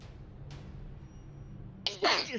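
A single sharp sneeze bursts out at the end after a quiet stretch of low background noise.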